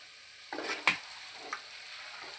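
Chicken fry sizzles in a pan as curry leaves are dropped in, with a sharp burst of crackling, a couple of stirring scrapes and a quieter hiss in between.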